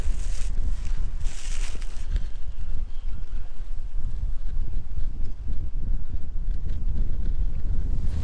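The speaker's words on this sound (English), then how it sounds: "about 9-10 mile an hour winds today" Steady 9-10 mph wind gusting over Lake Guntersville in late April while fishing from a Bonafide RS 117 kayak, a continuous close rushing roar of wind buffeting the microphone, with no talking.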